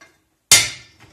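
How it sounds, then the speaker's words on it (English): A single sharp hammer strike on a center punch, marking hole positions on metal for drilling, rings out loud and close, then decays over about half a second in an otherwise quiet shop. "I start marking the holes up with a center punch."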